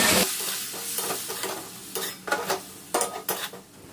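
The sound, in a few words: spice paste being stir-fried in a pan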